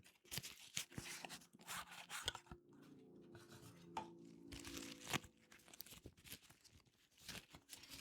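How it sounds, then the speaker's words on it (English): A deck of normal playing cards being shuffled in a quiet room, soft crisp riffles and crinkling bursts at close range, faint and intermittent with pauses between. "I'll give them a quick little shuffle."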